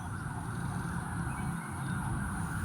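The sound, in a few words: ambulance siren passing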